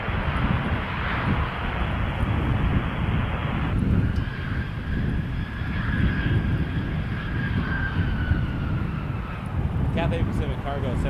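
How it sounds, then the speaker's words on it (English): Cathay Pacific Cargo Boeing freighter arriving at Toronto Pearson Airport, a broad steady jet roar with wind buffeting the microphone, holding loud and even throughout the approach, with no voices over it. "Cathay Pacific Cargo 7478 is coming in"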